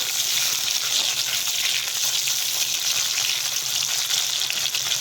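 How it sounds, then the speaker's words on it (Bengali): Chopped tomatoes frying in oil for a chapila fish tel jhal, a loud, dense and continuous hiss of sizzling oil held close throughout, with no voices. "টমেটোটা তেলে এরকমভাবে কষে নিতে হবে"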